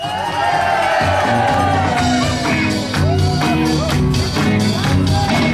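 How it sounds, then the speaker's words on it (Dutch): Loud crowd cheering, whooping and shouting at a Dutch farmers' society show, continuous for the whole stretch, with tonal musical sounds running underneath. "Hier is een goed applaus"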